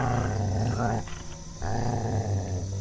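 Two dogs growl low and menacingly at close range in a continuous rumble that breaks off briefly and then resumes.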